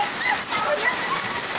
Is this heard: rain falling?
yes